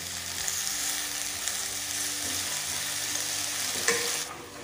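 Squash pieces fry in a pan over a gas flame with a continuous, even sizzle. A brief clatter comes near the end, and no one speaks.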